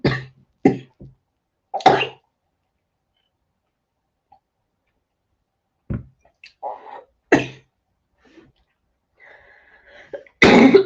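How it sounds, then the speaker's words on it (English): Several short, close coughs from someone with a cold, coming as isolated bursts separated by silence, with a couple of quieter throat sounds near the end. "so I have to cough a bit."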